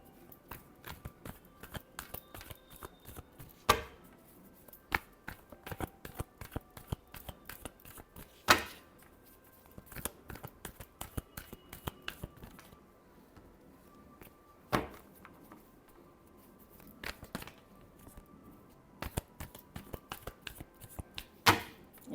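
Tarot cards shuffled by hand in a steady run of soft riffling flicks and taps, with a few sharper slaps standing out, close and fairly quiet, with no voices.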